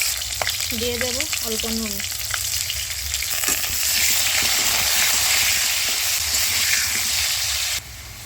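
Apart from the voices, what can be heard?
potatoes frying in hot oil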